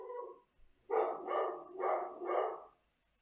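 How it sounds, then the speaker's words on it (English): A dog barks indoors in the background, a short run of about four muffled, evenly spaced woofs after a faint lead-in yip, moderately loud and alone. "That's my dog barking."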